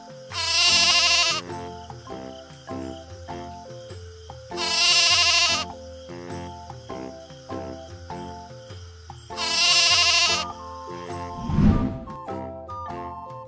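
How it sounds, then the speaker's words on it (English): Three loud, wavering Barbary sheep bleats spaced several seconds apart, rising clearly over a steady bed of background music. "Barbary Sheep."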